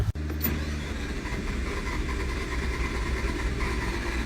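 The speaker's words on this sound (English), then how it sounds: "So it won't start. It sounds like it's got no compression" A starter motor cranks a diesel engine with no compression steadily with a low, rhythmic churning, loud and continuous, without the engine catching.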